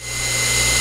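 A.O. Smith stationary electric motor starting up and running with a steady hum that swells in the first instant and then holds even and loud, with no voices.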